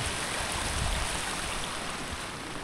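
Seawater floodwater pours over the bank into a fishpond, carrying debris, a steady close rushing wash with no pauses or talk.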